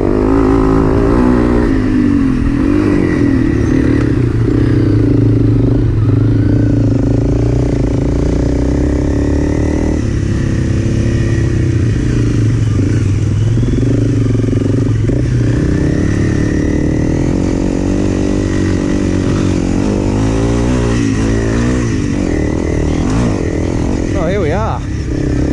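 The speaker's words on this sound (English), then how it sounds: "I'm going to turn the engine off." A motorcycle engine runs continuously on a mountain trail, loud and close throughout, with a rough, steady drone and slight shifts in pitch as the throttle changes.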